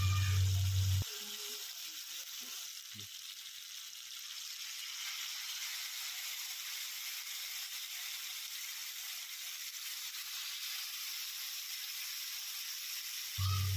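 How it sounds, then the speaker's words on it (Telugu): Marinated fish pieces shallow fry in oil on a flat dosa pan, giving a continuous, even hiss of sizzling oil that stays close and steady throughout. "ఇక్కడ నేను చేపల ఫ్రై అనేది డీప్ ఫ్రై చేయడం లేదు కనుక నేను దోసపెనం మీద ఫ్రై అనేది రెడీ చేస్తున్నాను"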